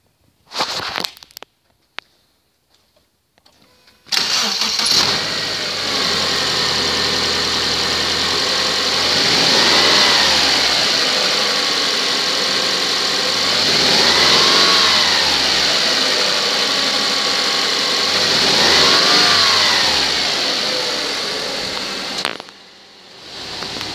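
A 2012 Subaru Outback engine running, then idling as the car is shifted between reverse and drive, with a steady close engine hum that swells and settles several times, after a few scattered clunks at the start.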